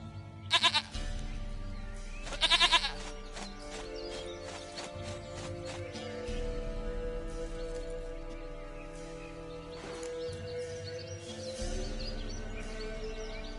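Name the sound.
goat bleating in the video game The Witcher 3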